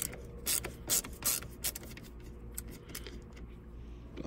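A Torx T25 tool turns a bolt on a BMW E39 5 Series steering lock, giving repeated ratcheting clicks and metallic scraping close by, bursts in the first second or so, then quieter rubbing.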